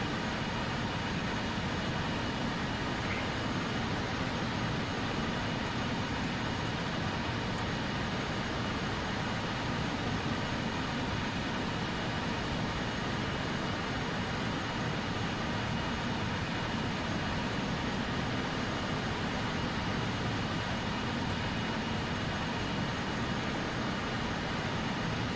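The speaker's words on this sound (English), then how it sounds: "You can hear the aircraft labor a little bit." Avro RJ-100 jet engines labouring in Microsoft Flight Simulator, a constant dense roar and whine that holds steady and loud throughout with no change in rhythm.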